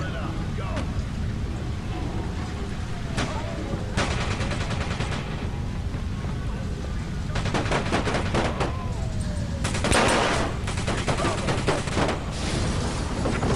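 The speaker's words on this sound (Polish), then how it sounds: "Jakaś broń długa, oczywiście, żeby nam zaprezentować, jak się z tego będzie strzelało" Bursts of gunfire from a long gun ring out in the video game Watch Dogs, with rapid volleys and single shots through a steady rumble while someone talks over the action.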